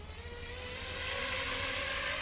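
Drone motors with a cracked motor arm spin up for takeoff, a rising high-pitched electric whine with tonal harmonics that steadily climbs in pitch and loudness, close by.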